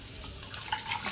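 Water from an opened kitchen tap runs into a pot of rice for washing, a soft continuous gushing close by with a few brighter splashy bursts toward the end.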